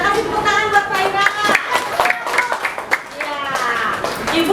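A school class claps for a student, scattered hand claps under overlapping children's voices and lively chatter in a classroom.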